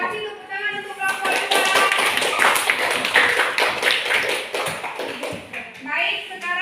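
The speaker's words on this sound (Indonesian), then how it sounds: "Kasih tepuk tangan untuk kelompok" Classroom applause for a student group in a seventh-grade class, a dense burst of many hands clapping close by, mixed with children's voices throughout.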